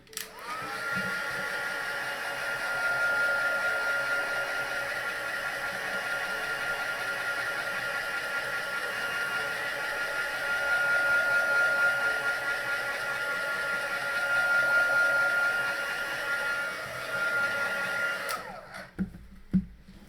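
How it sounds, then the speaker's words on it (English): A heat gun blows steadily on wet paint during a live painting session, a loud, constant whooshing roar lasting close to twenty seconds before cutting off abruptly. "I think I'm just going to use the heat gun, so mind your ears guys, because this is going to be a bit loud."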